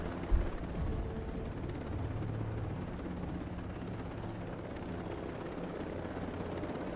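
Helicopter in flight within the video game Tom Clancy's Ghost Recon Breakpoint, a steady continuous rotor drone with low thumping that holds level throughout, close and moderately loud, with no talking.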